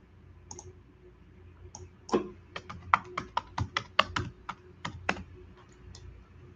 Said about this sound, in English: Type it fast.